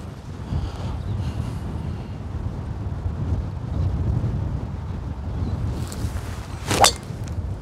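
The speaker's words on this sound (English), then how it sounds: "Wind, massive strong wind in face." Strong, steady wind roars across a golf course, a broad continuous rumble buffeting the microphone throughout, with one brief sharper gust or rustle near the end.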